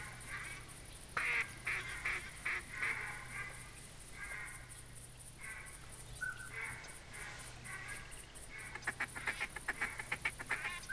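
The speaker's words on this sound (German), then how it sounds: "Da kommen die ersten Enten." Ducks call during a duck hunt in The Hunter video game, their repeated quacks coming in bursts over a steady low hum, moderately close, with a rapid run of calls near the end.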